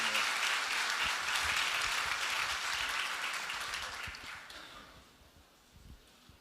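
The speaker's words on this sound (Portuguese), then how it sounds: "Forte aplauso ao Senhor." An audience at a Portuguese-language creationism lecture breaks into loud, sustained applause that fills the room, then thins and fades toward the end.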